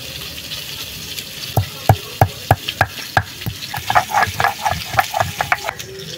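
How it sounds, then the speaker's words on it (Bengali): Snakehead fish pieces frying in a pan, a loud close sizzle punctuated by a rapid series of sharp spatula knocks and stirring clatters that quicken toward the end; nobody speaks. "মাছগুলো বেশ লাল লাল করে ভাজা হয়ে গেছে,"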